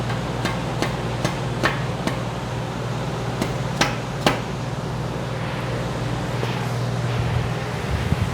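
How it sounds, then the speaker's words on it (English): Hammer strikes seating a part on a 6.4 HEMI engine during a crankshaft and stud build, a series of sharp, evenly spaced metallic taps over a steady low hum, fairly close and loud. "We're gonna get our hammer, lump it down till it seats."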